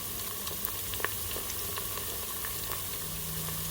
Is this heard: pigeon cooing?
no